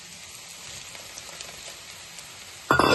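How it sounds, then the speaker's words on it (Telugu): Ivy gourd and coconut frying in a pan over the flame: a steady, soft sizzle throughout, then a sudden louder scrape or clatter in the last moment. "ఫ్లేమ్లో పెట్టుకొని ఫ్రై అవ్వనిద్దాం"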